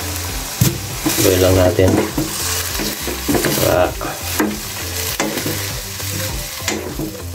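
Shrimp paste stirred into a frying pan for Bicol express, crackling and sizzling under a scraping spoon in bursts of stirring, with someone speaking briefly over the cooking.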